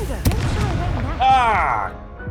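Spell blasts in the video game Hogwarts Legacy: a sharp burst followed by a bright whooshing, sizzling sweep over game effects, with a voice shouting throughout.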